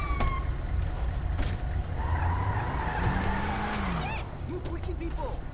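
A car in the video game GTA V with the LSPDFR police mod drives off, its engine rising and shifting under a voice, with tire noise and game sounds layered in.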